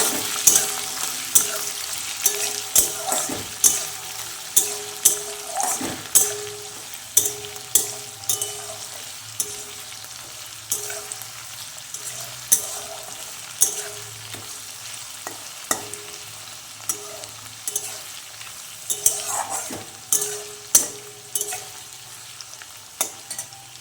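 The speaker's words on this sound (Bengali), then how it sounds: "এবারে একটু আমি ভালো করে নাড়বো।" Onions sizzle in a pan for restaurant-style egg tadka while a spoon stirs them, giving repeated scraping strokes in a steady rhythm over a continuous close frying hiss.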